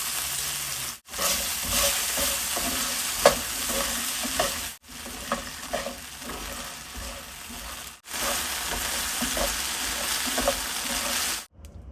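Drumstick pods (moringa) sautéing in a spoonful of oil with a little salt, a steady close sizzle with stirring scrapes running through, broken by a few brief pauses.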